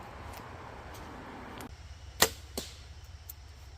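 A bow fires a broadhead-tipped arrow, giving one sharp, bright snap with a brief whoosh and a fainter follow-up thud in a quiet outdoor space.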